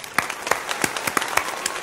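A brief applause sound effect: a quick, steady run of sharp claps, fairly close and even in rhythm.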